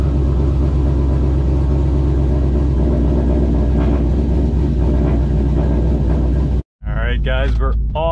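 A turbocharged GMC truck rumbles steadily as it sets off on a drive, a loud, deep continuous engine drone heard from inside the cab, with a voice talking over it and a brief cut near the end.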